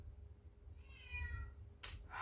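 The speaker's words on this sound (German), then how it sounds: "Meine Katzen haben gerade Futter bekommen, aber irgendwas scheint ihnen nicht zu gefallen." Cats meowing just after being fed, one plaintive meow in the middle and a sharper burst at the end, heard indoors over low background rumble without speech.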